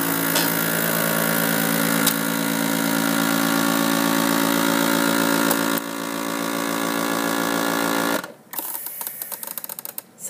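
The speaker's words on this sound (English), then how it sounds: "it feels like I hear the suction coming out of the food saver part" A FoodSaver vacuum sealer runs with a loud, steady mechanical pump hum for about eight seconds, then cuts off into a few uneven clicks and rattles.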